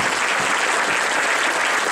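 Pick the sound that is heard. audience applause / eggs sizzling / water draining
audience applause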